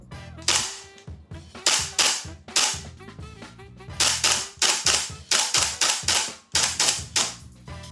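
TM Type 89 gas airsoft rifle firing semi-auto on duster gas: a long string of sharp, loud cracking shots in uneven bursts, each followed by a short mechanical clack, close and alone with no talk.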